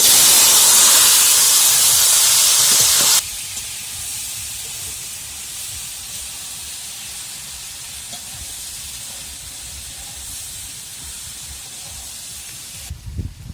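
Whole garam masala, bay leaf and asafoetida hit hot oil with a loud, bright hiss for about three seconds, then the sizzle drops to a softer, steady crackle that carries on to the end.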